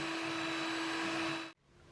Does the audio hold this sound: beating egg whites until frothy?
yes